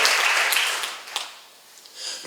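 A church congregation claps along during a sermon-seminar, a dense, bright patter of applause that starts strong, then thins and fades before a brief swell at the end, with no talk.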